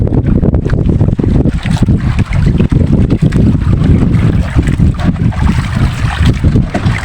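A loud, steady Sumo 7.5 boat engine drones throughout on a fishing trip, mixed with heavy wind rushing across the microphone and water noise.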